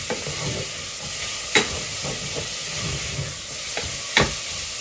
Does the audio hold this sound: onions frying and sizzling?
yes